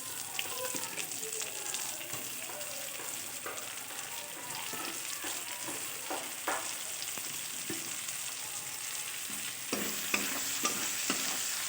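Chopped onion tossed into oil left over from frying fish sizzles loudly and continuously, with scraping stir strokes from a spatula scattered through it.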